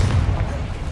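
Confringo explosion spell going off in Hogwarts Legacy, a heavy low boom that rumbles loudly through the whole second with a dense roar underneath.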